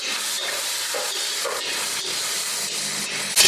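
Ginger garlic paste sizzling in hot oil with cumin and peanuts, a steady close hiss and crackle of frying that runs evenly throughout, with a brief louder burst at the very end.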